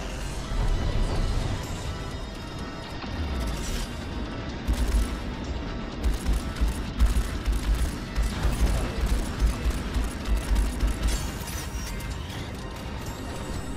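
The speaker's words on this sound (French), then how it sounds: "C'est juste qu'il y a trop d'explosions pour moi quoi." Space combat in the game Strike Suit Zero, with a thick rumbling bed of repeated explosions and booms, including a rapid string of heavy blasts through the middle, continuous and fairly loud throughout.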